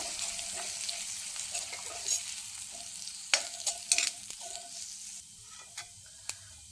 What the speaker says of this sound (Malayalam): ഇനി ഇതെല്ലാം കൂടി ഒന്ന് വഴറ്റി കൊടുക്കാം.